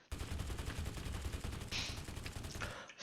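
AKM rifle firing in Totally Accurate Battlegrounds, a rapid automatic burst of evenly spaced shots lasting about three seconds, loud and alone.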